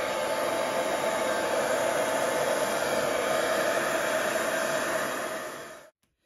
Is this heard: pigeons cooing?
no